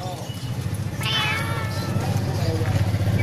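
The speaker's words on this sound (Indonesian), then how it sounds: "Ini ada kucing" A cat meowing at a bird market, one drawn-out meow standing out over a dense background of market chatter and traffic rumble.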